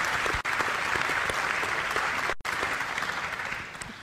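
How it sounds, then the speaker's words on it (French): An audience at a regional Talents des Cités event applauds loudly and steadily, a dense wash of clapping that continues throughout with a couple of brief cutouts. "C'est gentil de l'applaudir, merci."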